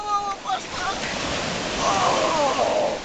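Sea waves wash steadily at the seaside, a broad continuous roar with a swelling surge toward the end, while a person talks briefly near the start.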